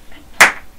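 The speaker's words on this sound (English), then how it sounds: "Both hands pat your knees and clap to the beat." A single sharp hand clap in a Year 3 primary school music lesson, one crisp close strike rising out of near silence and decaying quickly.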